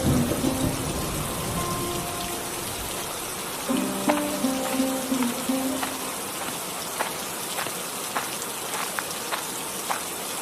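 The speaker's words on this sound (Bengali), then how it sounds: "একিরে রতন, এই বৃষ্টির ভেতর জমিতে কাজ করব কিভাবে?" Cartoon rain sound effect, a steady hiss of rainfall with scattered drop ticks and a faint low rumble, heard alone without talk.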